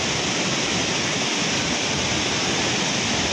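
A dense, constant roar of heavily rushing water at a waterfall near Dumaguete, swollen during a typhoon, loud and unbroken, close by.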